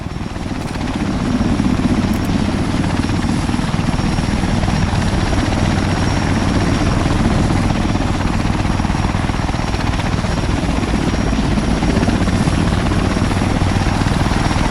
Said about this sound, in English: we got some more helicopter reinforcements coming down